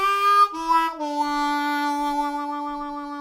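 Harmonica in A playing a short blues phrase, with a pitch bend dropping between sustained draw notes, close and clear with no talking over it.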